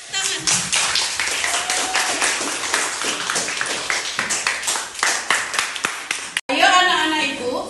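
A classroom of hands claps in a quick, steady rhythm, fairly loud and close, ending abruptly before voices and chatter pick up; a teacher-led round of applause for pupils in an Indonesian primary classroom.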